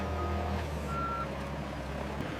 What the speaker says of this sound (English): A forklift aligns with the pallet to lift the secured stack of bricks